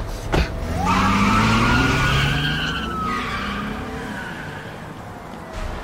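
A car in the video game A Way Out drives off and skids, with a rising engine whine and a long tire squeal sweeping across the clip, loud and close, no talk.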